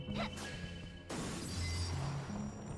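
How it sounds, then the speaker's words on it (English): A shattering crash from the Castlevania 64 video game bursts in about a second in and then carries on as a loud, ringing debris spray over steady game music, with no talk. "oh, and that shattering sound."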